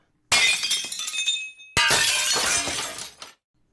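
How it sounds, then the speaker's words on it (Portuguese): Glass shattering as household objects are smashed, two loud crashes in quick succession, each a sharp impact followed by a spray of tinkling shards that fades out, heard close and alone. "Da cozinha à sala, tudo parecia ser jogado e espatifado"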